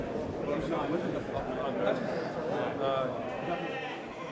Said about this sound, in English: They're good-looking sheep, aren't they?